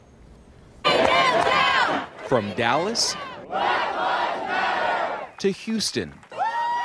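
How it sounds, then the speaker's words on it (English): A crowd of protesters chanting and shouting loudly at a march against Confederate monuments, in bursts of massed voices with a short spoken line over the noise. "thousands took part in solidarity marches calling for Confederate monuments to be torn down"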